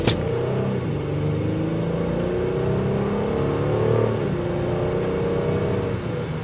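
A 2024 Honda Pilot Elite with a 10-speed transmission accelerating on a test drive, a steady engine drone and road roar from inside the cabin, rising gradually with no talk.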